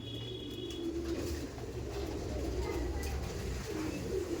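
Madrasi tournament-quality pigeons cooing at a seller's loft, low soft coos repeating over a steady background hum, with faint chirps and a little rustle nearby.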